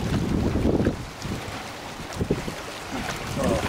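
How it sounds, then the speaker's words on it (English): Wind blowing outdoors in an open setting, a steady loud rumbling gust buffeting the microphone throughout, swelling and easing without any talk. "given the wind here"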